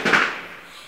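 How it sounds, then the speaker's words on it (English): A firework explodes outside with a loud, sharp bang that rolls off into a fading rumbling tail, a single blast heard alone. "they have some that sound like damn bombs. Like, it don't sound like a firecracker."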